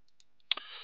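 A computer mouse gives a single crisp, close click after a few faint ticks, followed by a quiet lingering tone.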